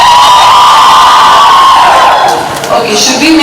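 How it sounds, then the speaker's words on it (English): An audience at a live event in Borivali, Mumbai, cheers and whoops loudly. The shrill, sustained roar of many voices fills the whole stretch, and a few shouts stand out as it tapers slightly. "Let me hear how loud you can cheer for yourselves"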